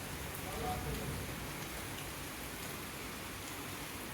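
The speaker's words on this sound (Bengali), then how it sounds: "বৃষ্টি হচ্ছে কি সুন্দর জল পড়ছে" Steady rain falls in an even, hissing wash with a faint patter of drops, continuous and fairly soft throughout.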